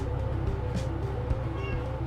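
A house cat meows indoors, a few soft, tonal cries rising over a steady low background hum.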